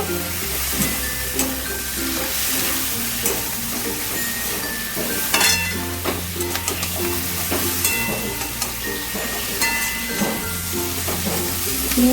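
Prawns fry and get stirred in a pan with chilli and garlic, a loud continuous sizzle broken by repeated scraping and clattering of a spatula on the metal, with no talking.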